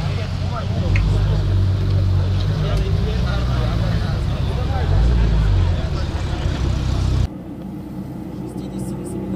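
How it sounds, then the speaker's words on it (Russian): A Ferrari 458 and an Audi RS3 at a drag racing event run with a loud, steady engine roar that drops sharply near the end, while people talk over it throughout. "Так, у нас заезды продолжаются. Феррари против Audi RS3."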